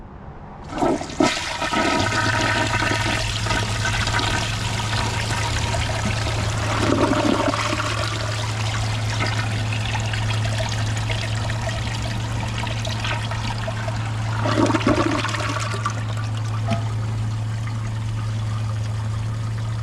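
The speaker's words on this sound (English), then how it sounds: "Here's a flush with the siphon jet plugged with handle held down." A Kohler Highline Arc toilet on a tall tank flushes with its siphon jet plugged and the handle held down, giving a long steady rush and gurgle of water with a low hum, running close and loud for the whole stretch.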